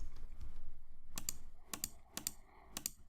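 Computer keyboard keys clicked while laying out a moodboard in Adobe Illustrator, a few quick paired taps in short clusters, close and crisp over faint background hum.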